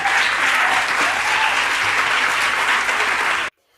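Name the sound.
audience applause after a speaker's story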